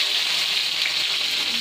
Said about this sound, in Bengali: এরপর আমি পেঁয়াজ কুচি দিয়ে দেবো।